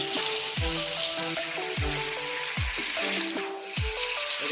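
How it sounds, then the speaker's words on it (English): Fish submerged in hot oil for Jamaican brown stew fish, a loud steady sizzle and crackle close up, continuous throughout with faint rhythmic low thumps beneath. "the fish is now submerged into the oil"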